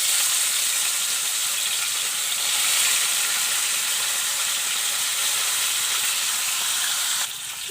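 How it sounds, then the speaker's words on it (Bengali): Steady loud sizzling of fish frying in hot oil, a continuous bright hiss with no talking, dropping slightly near the end. "এবার মাছটা ভেজে নেবো আমি"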